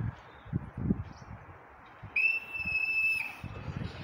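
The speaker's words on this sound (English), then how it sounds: "When you hear this whistle," A single sharp whistle blast, loud and steady for about a second, rises over faint background chatter and rustle.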